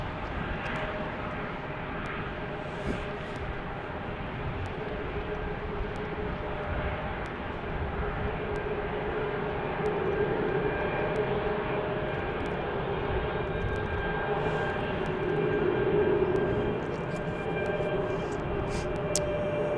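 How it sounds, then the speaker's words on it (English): An Airbus A330neo airliner idles at Salt Lake City airport while waiting for de-icing, a steady roaring engine drone with a faint tonal whine that swells slightly, heard from a distance with no talking. "this A330neo is waiting to de-ice here"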